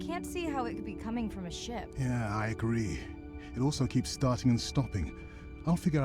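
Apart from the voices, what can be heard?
No everyday noise stands out behind the speech.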